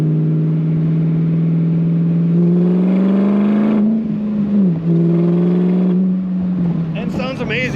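A 1965 Shelby Cobra Factory Five replica's engine rumbles at a steady low idle, then climbs into a throaty rev, dips and settles back, heard up close and loud.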